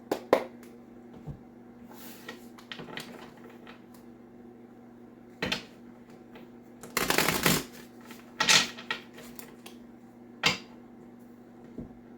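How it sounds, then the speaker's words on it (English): Several bursts of tarot cards being shuffled, quick riffling flurries with pauses between, close and crisp over a quiet room hum. "Of course, I'll clarify everything, hence all these card shuffles."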